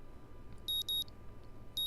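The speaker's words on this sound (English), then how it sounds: "The sound of an alarm pulls me out of my fitful slumber" Alarm beeping in the visual novel Katawa Shoujo, clean electronic double beeps repeating in pairs over a quiet background, clear and alone.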